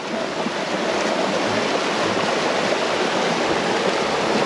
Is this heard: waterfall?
yes